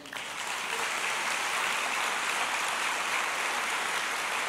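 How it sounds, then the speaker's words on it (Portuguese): Church congregation applauding together after a sermon, a broad, even roar of clapping that swells in quickly and stays steady, slightly distant and hall-filled. "Será que você pode aplaudir ao Senhor?"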